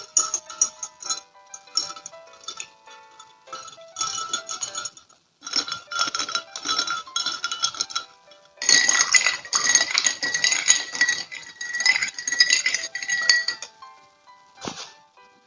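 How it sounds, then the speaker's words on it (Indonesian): A spoon swirls and clinks against a glass of iced chocolate drink, bright ringing taps and rattling ice coming in bursts with short pauses, close and clear, no voices. "Mari kita aduk-aduk dulu."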